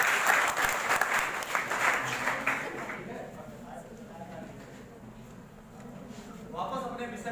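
Applause from an audience at a Hindi-language health awareness talk on TB and HIV, a burst of clapping that fades after about three seconds into quieter room noise and faint voices.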